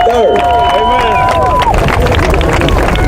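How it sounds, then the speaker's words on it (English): Audience applause and cheering at the Memphis, Tennessee march marking the 50th anniversary of Martin Luther King Jr.'s assassination: a loud, dense crowd roar with steady clapping and shrill whistle-like tones, continuous throughout. "Give a round of applause."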